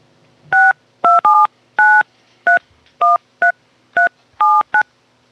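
A phone number is dialed: a series of about ten crisp touch-tone beeps in uneven quick succession, clear and close, with no voices.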